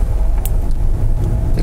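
A Honda Step WGN Spada e:HEV accelerates, heard from inside the cabin as a loud, steady low rumble of road and drivetrain noise with a few faint higher ticks.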